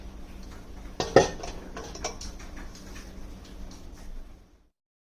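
A steel vessel is set down onto a plate that presses homemade paneer curdled with vinegar, giving one sharp metallic clunk followed by light clinks and small ticks, close by, with no talk.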